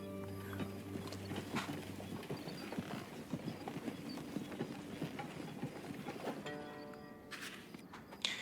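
Steady clip-clop of horses' hooves at a trotting rhythm, fairly close, over a busy background of clatter and faint voices, in the video game Ash of Gods: Redemption.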